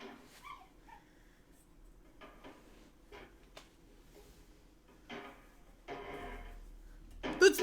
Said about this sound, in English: Oh my god, it's a puppy.